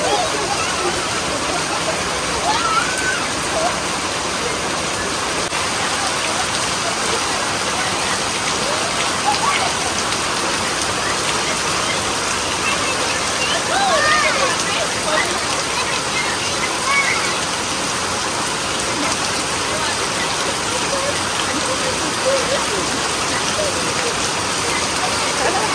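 Steady rain pours down in a dense, even hiss with constant patter, continuing unbroken throughout; voices are faintly mixed in.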